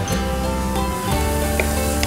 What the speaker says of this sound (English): To this I'm going to add the crushed garlic just to give that lovely garlicky flavor.